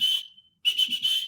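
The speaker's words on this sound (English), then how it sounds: "when I go into the kennels, I use a recall whistle." A dog recall whistle blown in gundog kennels in short shrill blasts: one long tone, a brief pause, then a quick run of trilled pips, loud and close.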